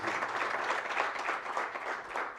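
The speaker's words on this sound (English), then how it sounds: "A big round of applause." Faint round of applause from guests at a leadership transition media breakfast, a soft, steady patter of clapping heard from a distance.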